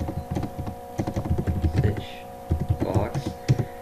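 Someone types code on a computer keyboard, with quick soft key clicks in short bursts running under a man's close, steady talking.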